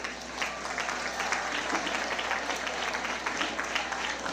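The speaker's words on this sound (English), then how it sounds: "a round of applause." Applause from an audience at a school Flag Day program, a steady, moderately distant wash of many hands clapping at once with no speech over it.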